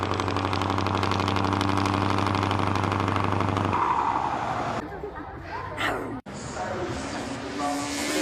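A supercharged Nissan S15 with a Rocket Bunny kit runs nearby, its engine holding a steady loud idle with strong low tones before the sound drops and shifts, with brief voices among the bustle.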